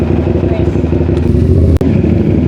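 A Honda Click motorcycle fitted with upgraded parts rumbles steadily up close alongside a Honda Beat, with a continuous low engine drone and a brief dropout near the end, while people talk over it.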